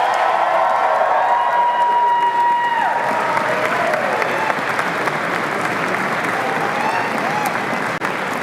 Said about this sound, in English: I now invite you, the members of the graduating classes, to reciprocate by applauding your family, friends, faculty, and staff